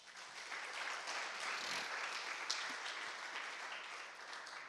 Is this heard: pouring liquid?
no